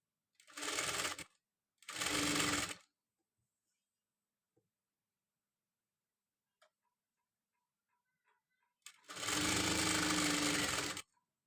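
A sewing machine stitches piping onto fabric in three loud bursts of rapid, steady stitching separated by quiet pauses with faint clicks.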